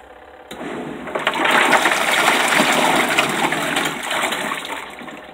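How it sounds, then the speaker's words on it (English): A Savage portable washing machine runs with a load of water inside, giving a steady, loud churning and sloshing wash noise that starts abruptly and holds for several seconds, with no talking. "This is a Savage washing machine."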